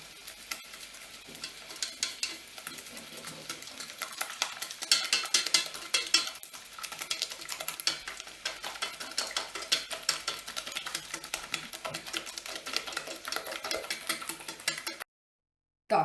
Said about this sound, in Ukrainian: Потрібно перемішати, щоб була така пінка.